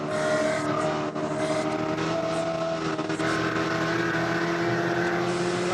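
Spec Corvette race cars battle at Buttonwillow Raceway Park, their engines a loud, sustained roar with steady droning tones that shift in pitch as they run, with no talk over them.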